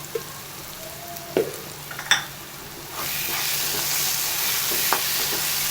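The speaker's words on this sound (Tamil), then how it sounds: "நல்லா எல்லாம் சேர்ந்து ஒரு 5 நிமிஷம் நல்லா வதங்கட்டும்" A steady sizzle of paneer butter masala frying in a pan grows louder partway through, with occasional scraping clicks from stirring.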